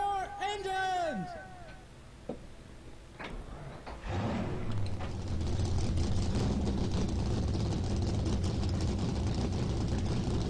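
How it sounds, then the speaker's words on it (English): Race car engines in NASCAR Racing 2003 firing up together after a quiet spell with voices, then a dense, rumbling idle of the whole field that holds steady and loud to the end. "Drivers, start your engines!"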